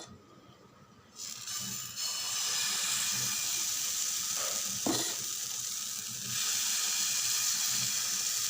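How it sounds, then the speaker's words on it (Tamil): Dosa batter hits a hot dosa griddle and bursts into loud, steady sizzling after a quiet start, with a brief scrape or tap midway as the frying hiss holds on. "நம்ம இப்போ தோசை ஊற்றிடலாம். தோசை கல் வச்சுருக்கேன்."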